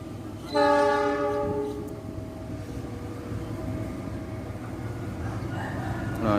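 Train approaching the Cangkring village level crossing and blasting a loud multi-tone horn for about a second, followed by the steady rumble of the railway cars rolling past.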